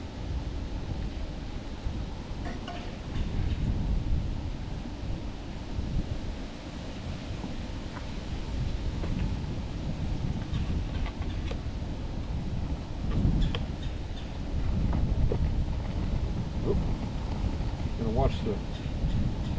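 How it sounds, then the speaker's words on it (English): Steady gusting wind roars and buffets the microphone at a truck campsite, a constant low rumble with occasional stronger swells throughout. "Watch the wind."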